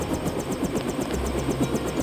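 Helicopter engine in the video game Deus Ex, a steady rhythmic rotor chop with turbine whine running through the whole stretch, loud and close.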